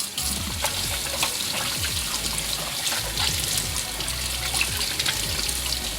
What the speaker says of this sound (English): So we have to turn on the water.